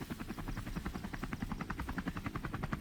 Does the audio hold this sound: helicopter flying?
yes